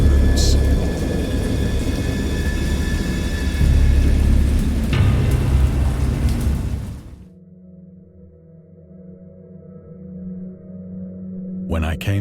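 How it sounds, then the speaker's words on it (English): Stormy weather in the video game Dagon: a dense wash of heavy rain with low rumbling thunder fills the first seven seconds, then drops to a quieter, hollow low drone before a brief rise near the end. "I know that I heard pearls of thunder and other tones which nature utters only in her wildest moods."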